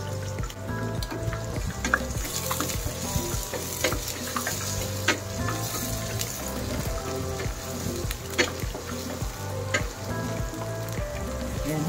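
Halved and whole cherry tomatoes fry in a hot pan for sweet and sour pompano fish, a continuous close sizzle with scraping stirs and soft bubbling, no talking.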